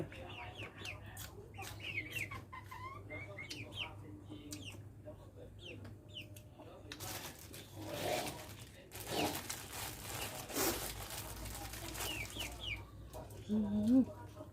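Chickens cluck in a rural Thai farmyard, softly and intermittently alongside other bird calls and background noise, with a louder burst of broadband rustling in the middle.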